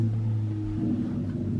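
Cars racing down the street outside make a steady, low engine rumble that drones continuously with faint rises, like revving heard through walls at a distance, with no talk over it.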